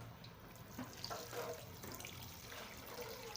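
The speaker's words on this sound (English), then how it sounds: "I'll add enough water that will be enough for my soup." Water poured into a cooking pot of stock for Okazi (Ikwerre) soup gives a faint, steady splashing trickle, quiet and continuous throughout.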